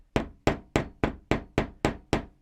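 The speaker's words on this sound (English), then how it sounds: "a little tap with a small hammer" A small hammer tapping a Moto Guzzi V7 II Special motorcycle part, eight crisp metallic knocks in an even, unhurried rhythm, close and clear with no talking.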